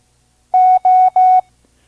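Three evenly spaced long dashes of a pure Morse tone spell the letter O, sent at five words per minute for a vintage ARRL training course, crisp and isolated against silence.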